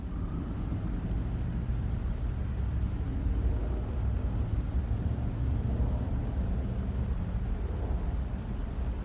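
A car engine, fitted with a new harness and coil packs, idling then rising slowly from no throttle toward full throttle, a steady low rumble that swells gradually, heard close and alone.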